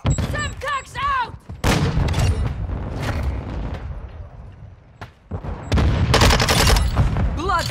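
Call of Duty: Modern Warfare II firefight with a Semtex grenade exploding among bursts of rapid gunfire, loud booms and sharp shots clustering at the start, middle and end, with brief quieter gaps and a voice calling out over the chaos.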